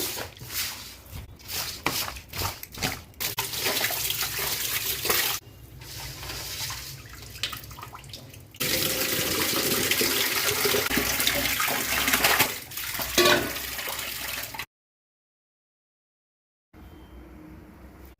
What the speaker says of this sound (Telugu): ఇవి పచ్చి రొయ్యలు ఉప్పు పసుపు నిమ్మకాయ రసం వేసి మంచిగా కడుగుతున్నా